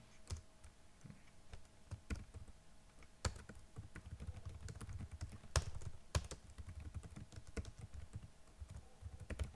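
Someone types a title on a computer keyboard in a steady flurry of soft key clicks with a few sharper taps, close up and quiet, with no speech.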